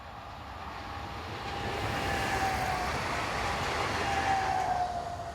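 A Swiss regional stopping train on the hourly service to and from Rotkreuz rumbles past at close range, a steady rolling roar that swells and holds, with a faint high-pitched wheel squeal drifting through.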